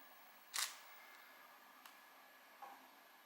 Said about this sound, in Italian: Fatemi soltanto fare uno scatto di prova